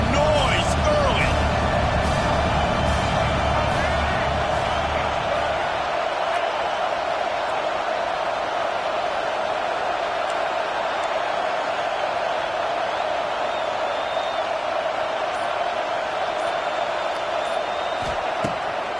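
Stadium crowd noise roars steadily throughout a college football video game, a dense sustained wash of cheering with heavy low rumble in the opening seconds that then thins to a constant, loud background din.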